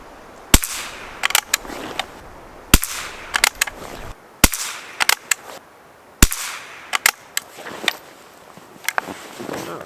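A Schultz & Larsen Otterup .22LR rifle firing Eley Club ammunition at a target, with about a dozen sharp, fairly quiet cracks spaced irregularly, some in quick pairs, and faint handling noise between shots.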